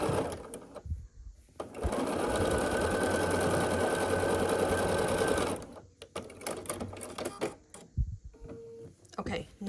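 A sewing machine stitches half-square triangle pieces of a Lady of the Lake quilt block in one steady, fast run of a few seconds, with handling clicks and a voice before and after.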